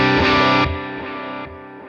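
An electric guitar played through a NUX Solid Studio with a 6V6 amp model and 2x12 cabinet, giving distorted, full-bodied chords that ring out and decay with two restruck strums.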